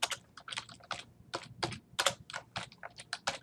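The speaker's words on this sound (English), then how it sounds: "type your custom text" Rapid, uneven keystrokes on a computer keyboard, close and clear, clicking in quick bursts with brief pauses and no voices.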